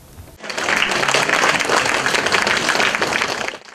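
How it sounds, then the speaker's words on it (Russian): Residents of Severodvinsk applaud Fyodor Konyukhov's expedition as it finishes its northern route along the White Sea shore, a loud, dense burst of crowd clapping that starts abruptly, holds steady for about three seconds, then fades. "Уставшие, но довольные Федора Конюхова северодвинцы встречают аплодисментами"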